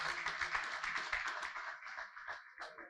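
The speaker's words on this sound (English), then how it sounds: "help me give a round of applause to Wale Odeleye" An audience at a Lagos SME bootcamp claps to welcome a speaker. The applause is dense but faint and thins out over three seconds.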